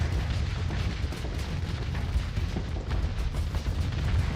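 Missile explosions in a Starsector space battle form a dense, continuous rumble of booms and bursts, loud and steady throughout with heavy low-end thuds.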